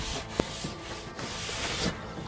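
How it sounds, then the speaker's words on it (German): A rag rubs steadily across Douglas fir decking boards, wiping off sawdust, a continuous soft scrubbing with a couple of small knocks, close by. "Dann nehmt ihr einen alten Lumpen und entfernt einfach"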